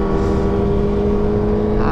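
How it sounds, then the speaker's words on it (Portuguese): A Harley-Davidson motorcycle rides past on a road during a Sunday group motorcycle ride, its engine a steady loud drone with strong low harmonics throughout, and a voice talks over it. "Olha o Harley Davidson."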